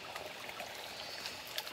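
A forest stream flows steadily nearby, a faint, continuous watery hiss and trickle with no voices over it.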